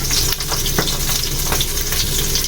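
Garlic and meat sizzle in a hot pan, a steady loud frying hiss running throughout with a few sharper crackles and stirring clicks, no talking.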